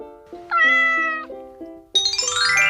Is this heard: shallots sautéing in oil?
no